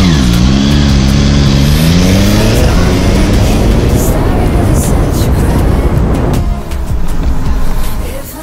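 A car engine revs and accelerates up close, a loud rising and falling drone that eases off near the end, with faint talk in the background.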